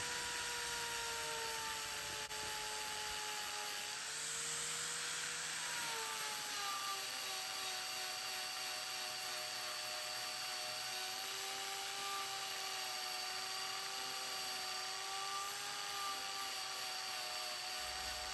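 A power tool grinds a deep gouge out of a part during a Norton Nemesis V8 motorcycle rebuild, a continuous high whine that stays steady and close throughout with no talk.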